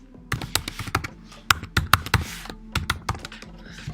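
A password is typed on a computer keyboard in quick, irregular clusters of close, crisp key taps with short pauses between bursts. There is no speech.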